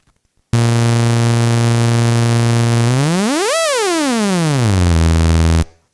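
Joranalogue modular synthesizer sounding a sustained even-harmonic tone, steady and loud for a few seconds, then sweeping sharply up in pitch and back down before cutting off.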